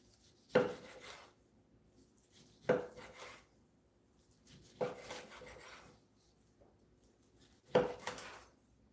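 A knife slices a tuna and aged kimchi gimbap roll on a cutting board: four separate cuts spaced about two seconds apart, each a short thud with a brief rasp, close and quiet, with no talking.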